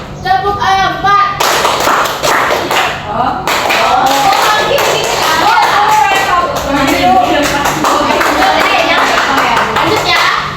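Primary school class in Indonesia clapping in counted patterns led by a teacher, sharp dense claps in bursts, with the teacher's voice and children's voices mixed in.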